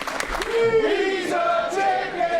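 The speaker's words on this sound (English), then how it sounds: "these two PW crowds calling Bronco McBride a chicken" Wrestling crowd at a Prospect Pro Wrestling show chanting in unison at Bronco McBride, a sustained, loud mass of voices with rising and falling chanted tones carrying through the arena.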